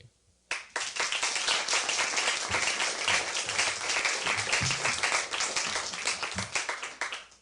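After a brief hush, an audience bursts into full, sustained applause for debate panelists at a Toastmasters event, many hands clapping steadily and close for several seconds before tapering slightly near the end.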